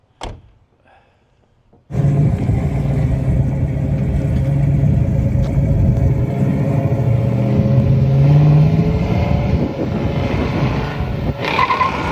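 A 1972 Chevrolet El Camino engine rumbles loud and close during a ride, swelling as it revs after a brief quiet start, with road and tire noise continuing steadily beneath.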